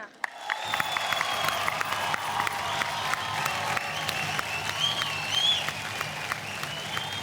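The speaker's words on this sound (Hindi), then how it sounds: "हमें सबको खड़े होकर इन्हें स्टैंडिंग ओवेशन देना चाहिए। जोरदार तालियां।" An awards ceremony audience rises for a standing ovation, broad sustained applause with crowd noise and a few faint cheers running steadily, fairly loud throughout.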